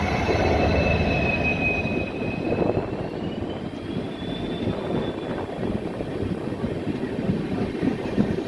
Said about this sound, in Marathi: ही कोणती तरी पॅसेंजर ट्रेन आहे मित्रांनो